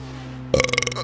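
A short voiced burp erupts suddenly after a steady low hum, with a pulsing, croaky texture lasting about half a second, fairly close and alone.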